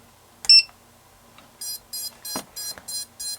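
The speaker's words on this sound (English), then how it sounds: "That sounds like it's the beeper" An EMAX Tinyhawk II whoop FPV drone's beeper sounds when the arm switch is flipped: one short shrill chirp, a pause, then five evenly spaced electronic beeps in a steady rhythm, close and clear over a quiet background.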